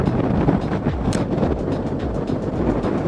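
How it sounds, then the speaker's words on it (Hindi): Strong wind roars across the microphone on a high mountain climb near Nako, a loud, constant buffeting rumble with gusty bursts and no voices. "बहुत तेज़ हवा चल रही है।"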